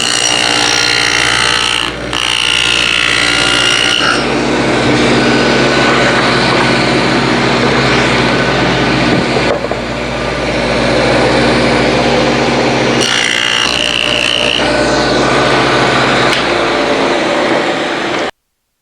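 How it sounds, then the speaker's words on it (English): A table saw cuts a 3/4 inch wide rabbet into wood for a tool cart, a loud, sustained high-pitched whine of the spinning blade that rises as it bites and holds steady through the cut, with brief dips between passes. "I'm going to first cut a 3/4 inch wide notch, a rabbet, on both ends, on both sides"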